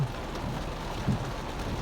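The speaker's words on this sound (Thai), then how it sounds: "ฝนตกนักอยู่ดอนเด้อ" Heavy rain pours down in Udon, Thailand, as a dense, continuous hiss with one faint low rumble partway through.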